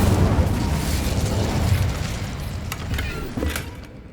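An Incendio fire spell cast in Hogwarts Legacy bursts out as a loud, roaring whoosh of flame with a booming low end, gradually tapering off, with a small crackling pop near the end.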